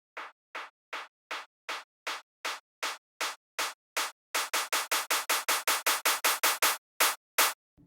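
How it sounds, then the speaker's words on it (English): Clap samples in a dubstep build-up, crisp dry claps firing in a steady rhythm that doubles in speed into a rapid roll before slowing for a final few hits, all clean and isolated. "these claps"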